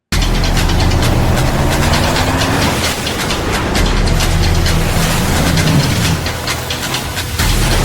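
Toyota Tacoma pickup engine in a commercial spot, a loud, steady low rumble with rolling mechanical noise running the whole time without speech.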